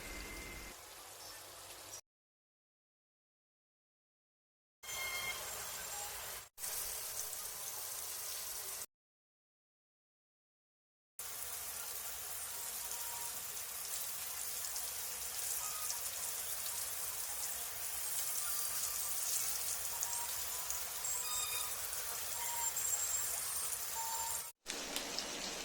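Kingfish (surmai) pieces shallow-frying in a pan, a steady crackling sizzle with dense spattering and broken gaps of silence, no talk.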